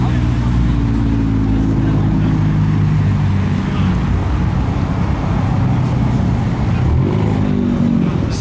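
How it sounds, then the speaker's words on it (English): Modified cars rolling into a busy car meet with a heavy police presence, engines rumbling and droning steadily and loudly throughout, with people talking over the noise. "Look at these cars that have just shown up."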